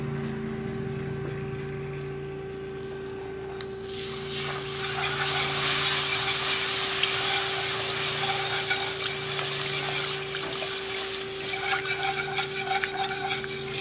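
Gravy made with Gossner shelf-stable milk bubbles and sizzles in a pan on a hot burner, a steady close hiss that swells partway through and continues alongside a constant low electrical hum.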